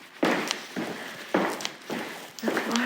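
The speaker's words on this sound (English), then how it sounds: "I can hear all my footprints." Four heavy footfalls land about a second apart on a hard, resonant floor, each one sharp and close with a short echoing tail.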